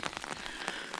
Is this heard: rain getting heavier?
yes